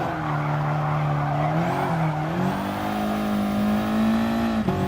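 Handbrake turn in a racing video game on Blue Moon raceway: a steady engine drone with a long, sustained tire squeal that rises and wavers as the car slides, loud and close, ending in a brief knock, with no voices.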